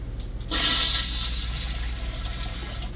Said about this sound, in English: This flush mechanism is electric.